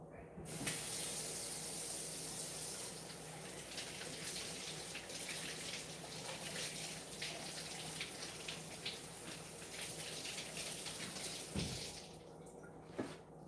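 Tap water runs steadily into a kitchen sink while potatoes are rinsed under it, a continuous close splashing hiss lasting throughout with a brief clatter near the end.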